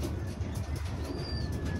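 Pigeons coo softly inside a trapping loft, low murmuring calls layered over one another against steady background noise, with a faint high whistle drifting through.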